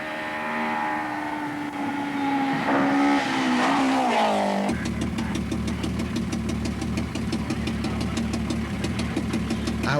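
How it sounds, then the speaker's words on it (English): Nissan 240 RS rally cars with gravel suspension and rough-road tyres run flat out on asphalt at the 1985 Acropolis Rally, engines howling loud and close with a rising pitch, then a dense, buzzing roar as a car blasts past. "Absolutely flat out in 5th gear, or in the case of Blomqvist, 6th gear"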